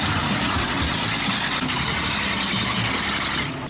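Off-road Jeep Cherokee engine working hard on a muddy trail climb at a jeep club trail event, a loud, steady, close rumbling drone that holds high revs throughout without a break.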